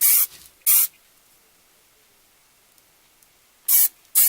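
Two short bursts of aerosol Instant Freeze spray onto a candle coated in Mod Podge, then a long quiet gap, then two more hissing sprays, all close and crisp.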